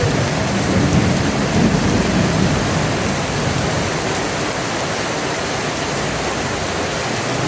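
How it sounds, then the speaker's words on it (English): Heavy rain pours down steadily during a flood in Kuala Lumpur, a dense, loud hiss with low thunder rumbling underneath and no talk. "As you can see, it's absolutely pouring down."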